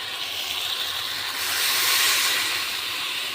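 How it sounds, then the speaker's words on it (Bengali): Water splashing into poppy seed paste masala frying in a pan for a raw banana and fish curry, a steady broad hiss that swells midway and settles, close and alone. "এখন আমি জল দিয়ে দেবো হালকা।"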